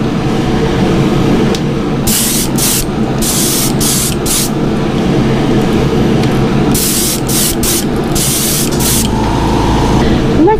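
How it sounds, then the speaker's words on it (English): A spray can mists green paint lightened with base white. It gives several loud, close hissing bursts of about a second each, in two clusters, over a steady low background hum. "I'm just going to lighten up this green. Just a real quick spray"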